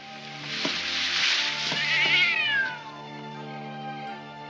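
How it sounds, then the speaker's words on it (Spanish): A cat meows outdoors at night near bushes beside a house: one long, clear, wavering meow rises and then trails off, standing alone over a steady low background. "¿Un gato ladrón?"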